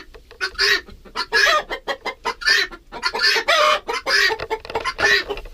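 Guinea fowl kept with laying hens call excitedly in a busy run of harsh, repeated clucking and chattering squawks, close and loud, continuing with almost no gaps.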